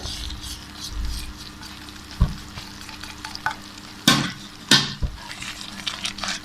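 Apricot chutney stirred and roasted in a pan gives a steady close sizzle, with a spoon scraping and knocking against the pan in several sharp bursts.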